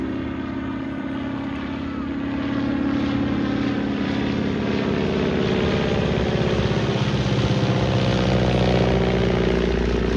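A PT-17 biplane drones steadily overhead, its engine hum growing slightly louder and holding a constant, buzzing pitch throughout.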